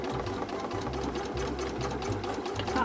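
A sewing machine stitches a quilted zipper pouch in quick, steady mechanical pulses with short pauses between bursts, running close and fairly quiet.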